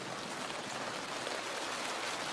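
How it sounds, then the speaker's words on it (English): Steady rain beginning to fall outdoors in the Australian bush, a dense even hiss of drops with no talk over it. "It's starting to rain."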